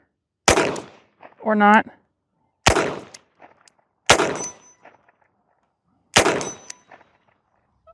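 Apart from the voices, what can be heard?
Chiappa Rhino revolver gunshots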